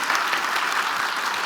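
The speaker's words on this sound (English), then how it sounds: "Let's have a round of applause for Ash." An audience applauds a comedy masterclass guest, dense continuous clapping from a full room, loud and steady throughout with no voices on top.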